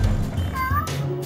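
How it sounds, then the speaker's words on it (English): A pet cat meows twice in quick succession, close and fairly loud, the second call rising and drawn out, over low background noise and faint talk. "My cat just doesn't stop."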